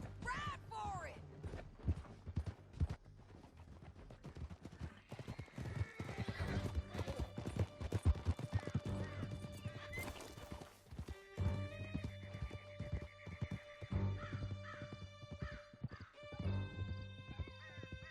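Horses in Red Dead Redemption 2 gallop with steady clip-clop hoofbeats, and one whinnies loudly near the start. Shouting voices and game music play over the riding throughout.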